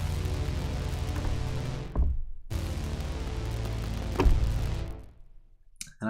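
A Moog-style synthesizer plugin plays sustained low, thick chords without arpeggiation, loud and dense, with two brief breaks and a fade near the end.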